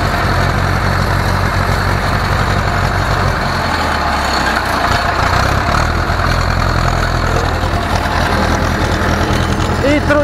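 Two Ursus tractors spreading lime at the end of the 2019 season, the near engine driving at speed with a steady low droning rumble and constant vibration throughout, a voice talking over it.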